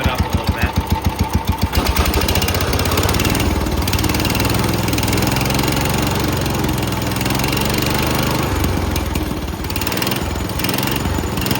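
Engine of a Cub Cadet lawn tractor running close and loud, with fast rhythmic knocking pulses at first, then a steady revving drone that rises and falls, with brief voice sounds over it.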